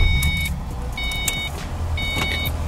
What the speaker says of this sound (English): gotta back up my freaking car into the garage